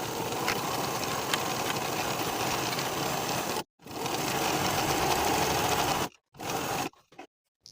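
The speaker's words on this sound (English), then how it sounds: "Sew the center seam with a 1/2-inch seam allowance" A sewing machine runs steadily and close up as it stitches the centre seam of a sweatshirt sleeve, with two abrupt pauses before it resumes and then a few short final bursts.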